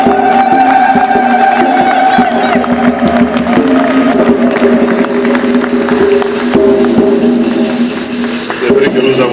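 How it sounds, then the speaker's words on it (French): Loud, sustained applause and crowd noise from a congregation at a Liège recollection gathering, welcoming a visiting abbé, with a dense wash of clapping and voices throughout. "accueillons-le avec nos applaudissements"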